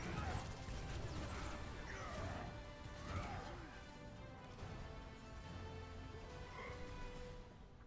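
Impact of the Shatter ability in an Overwatch esports match, a heavy crashing smash with shattering debris under crowd noise and game effects as a commentator talks.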